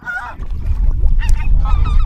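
Geese honk loudly and close by, several overlapping calls in quick succession over a low rumbling background, heard during a goose-hunting outing near Téteghem.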